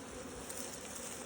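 Honeybees stir inside their hive in cold weather, clustering around the queen, a dense, steady buzzing hum that stays even and close throughout with no voices.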